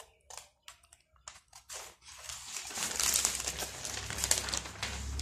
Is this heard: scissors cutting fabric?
yes